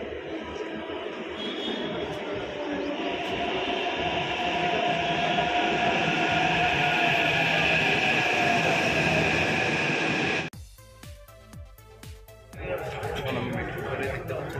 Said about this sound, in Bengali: আমাদের নির্দিষ্ট মেট্রো চলে এসেছে